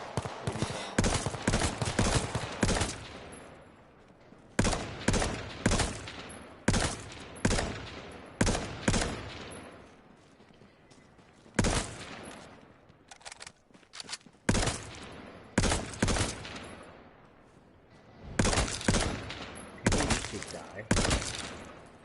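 Bursts of gunfire in Drug Dealer Simulator, sharp shots fired in rapid clusters separated by brief pauses, loud and close, repeating throughout with little else in between.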